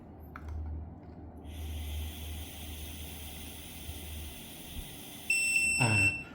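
A long, steady breath blown into an AT188 breathalyzer, followed by a short, bright electronic beep near the end; quiet room otherwise.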